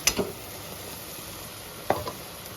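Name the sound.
Maggi noodles added to pan with fried broccoli and egg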